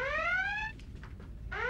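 The Star Trek red alert alarm sounds as a rising electronic whoop, one sweep, then a short pause and the next sweep starting, moderately loud with faint background noise.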